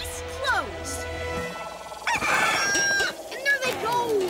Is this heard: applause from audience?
no